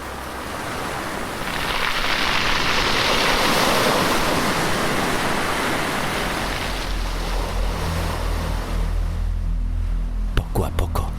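Ocean waves wash steadily onto a beach as a sound effect in a Spanish horror audio drama, a broad continuous surf roar that swells and holds, then thins near the end with a few sharp clicks.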